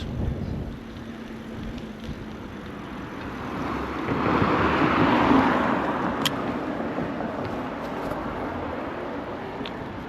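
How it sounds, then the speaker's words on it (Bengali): Strong wind blowing outdoors in Vendôme, France, a steady broadband rushing roar that swells through the middle and eases off again, with no voices. "বাট শো শব্দ হইতেছে অনেক আর প্রচুর বাতাস"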